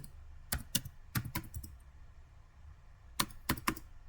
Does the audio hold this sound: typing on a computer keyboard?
yes